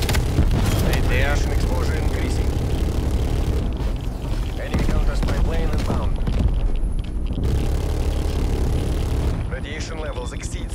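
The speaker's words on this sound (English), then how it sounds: "Enemy spy plane inbound." Dense, loud game mix from Call of Duty Black Ops Cold War, with an enemy spy plane's droning engine woven into rumbling explosions and gunfire, while players talk over it throughout.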